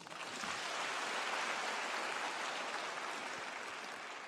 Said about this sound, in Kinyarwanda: Arakoze cyane Shasti, ariko twakongera tukabaha amashyi